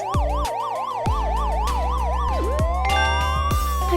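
A police patrol car siren wails in quick rising and falling cycles, then shifts to a long upward sweep, loud and close over low background tones.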